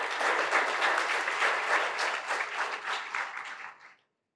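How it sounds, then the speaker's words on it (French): Audience applause at an education panel honoring Special Olympics, a steady dense wash of many hands clapping for about four seconds before cutting off abruptly; no voices. "d'applaudir Special Olympic"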